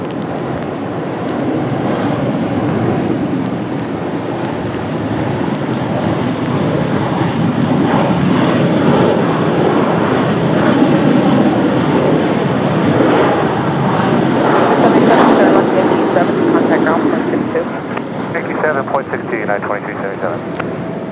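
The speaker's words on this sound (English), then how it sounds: "Nice smooth touchdown for the 737." A United Boeing 737 lands at Washington Dulles on a cloudy day. A loud, sustained jet engine roar with wind rush holds steady for about twenty seconds, then eases slightly toward the end.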